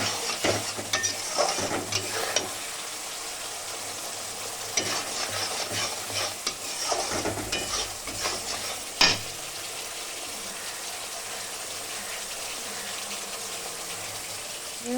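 Lightly fried fish drops into hot oil and a black cumin paste spice mix, bringing soft sizzling with bursts of stirring and scraping, some gushy spattering, and then a quieter steady fry, close up.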